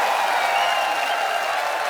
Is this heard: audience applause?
yes